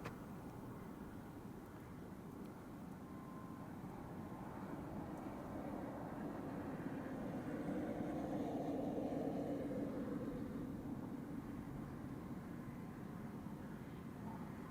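B-52 bomber passing overhead as a low, rumbling roar that swells toward the middle and slowly fades, heard outdoors at moderate distance without talk.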